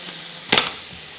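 Whole chilies dropped into hot oil for yakhni pulao give a sudden loud hiss and spatter that flares briefly, then settles back to a steady low sizzle.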